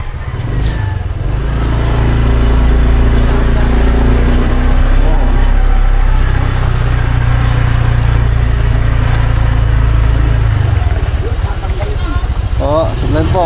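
A car engine idles and revs nearby with a steady low rumble for about ten seconds, fading near the end, heard at a cemetery visit with people talking around it.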